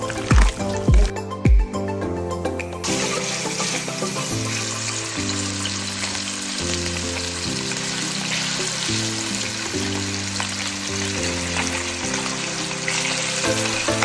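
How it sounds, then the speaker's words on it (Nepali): Biryani ingredients fry in a kadai with a steady, close sizzle and crackle that runs throughout, while a few low thumps sound near the start and low tonal hum and music-like sound sit underneath. "हामीले कराईमा पनि हालिसक्यौँ अब यसलाई चाहिँ हामी फ्राई गर्दैछौँ"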